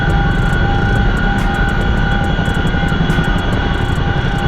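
A CH-47F Chinook helicopter's twin engines and rotors roar steadily in the DCS flight simulator, a loud, continuous drone with a deep rumbling throb and steady high whine, no voices.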